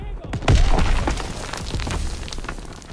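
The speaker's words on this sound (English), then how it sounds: "Get a grenade in that bunker." A grenade bursts inside a bunker on a Call of Duty: WWII D-Day beach, a close, heavy thump followed by rolling combat noise and crackling debris, with voices shouting beneath it.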